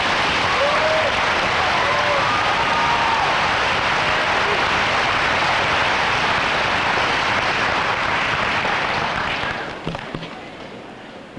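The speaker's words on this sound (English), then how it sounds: "Give them a round of applause, please" A graduation audience applauds its honor students with loud, sustained clapping from a large crowd that fills the space for about ten seconds before tapering off, with a few voices calling out near the start.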